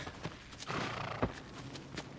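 Horse hooves clip-clop at a walking pace in a video game, a few soft, evenly spaced steps sounding close and fairly quiet with no talk over them.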